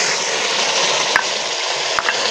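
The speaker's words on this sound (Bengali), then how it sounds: "এবার আমরা ভেজে রাখা আলুগুলো দিয়ে দেব" Fried potatoes going into sizzling masala in oil while cooking a cauliflower and rohu fish curry, a loud continuous sizzle with a few brief knocks and clinks.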